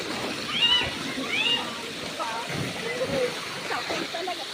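Strong, fast-flowing stream water rushes steadily at a campsite at Kamp Tralala in Cansuso, Laguna, a continuous splashing wash heard close by, with birds chirping faintly and voices briefly talking over it.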